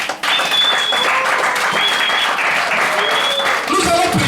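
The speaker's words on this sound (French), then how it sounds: "Acclamons pour le Seigneur" A church congregation claps and cheers in sustained, dense applause, loud and close, with voices mixed in throughout.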